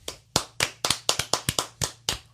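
A single person clapping close up, about a dozen sharp, separate claps in a slightly uneven rhythm, dry and alone with no other sound.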